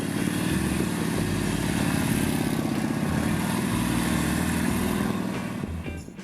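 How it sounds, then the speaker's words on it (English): Motorcycle engine held at a steady, slightly opened throttle, a continuous even drone with a constant pulsing rhythm that stays level before easing off slightly at the end. "Listen closely to the engine sound."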